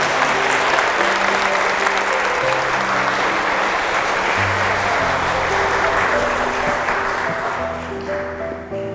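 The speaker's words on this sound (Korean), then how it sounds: "박수로 환영해 주시기 바랍니다." An audience in a church lecture hall claps in welcome. The applause is dense and steady for several seconds, with a soft musical backdrop, then begins to fade toward the end.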